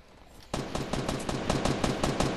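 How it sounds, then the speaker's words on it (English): Rapid bursts of gunfire in the video game Fortnite, a sudden start after a quiet half second followed by a fast, evenly spaced volley of loud shots. "He's getting shot."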